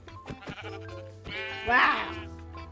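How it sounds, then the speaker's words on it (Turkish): A sheep in Minecraft bleats once, a bright wavering game bleat heard near, while someone talks quietly before it and light blocky game clicks sound around it. "Merhaba kara koyun."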